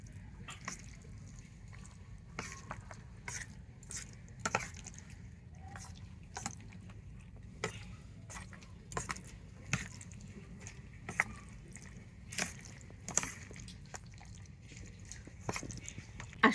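Soaked sago being mixed by hand with dates, pomegranate seeds, cashews and raisins, giving soft, squishy, wet squelches in an irregular rhythm, quiet and close with no other sound.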